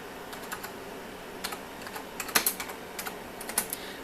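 Keys clatter on a Macintosh IIci computer keyboard in short irregular bursts, each stroke a crisp click at close range, with brief pauses between runs of typing and no voices.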